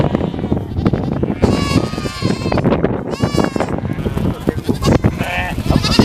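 Goats bleat loudly and repeatedly at close range, several wavering calls overlapping amid farmyard noise.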